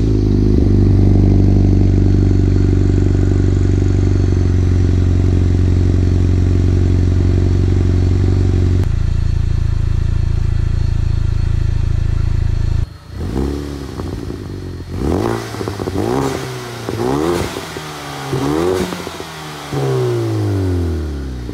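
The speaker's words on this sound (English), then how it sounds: "Like I said before, this is the stock exhaust." A high-mileage Chevrolet Cobalt SS on its stock exhaust idles with a steady drone, then revs sharply in a series of loud, rising and falling bursts close to the microphone.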